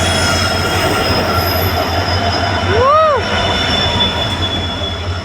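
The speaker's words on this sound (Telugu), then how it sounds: "ఇది మన ట్రైన్." An express train rolls into a station with a steady low rumble, and a sharp wheel squeal rises and falls about midway, close and loud.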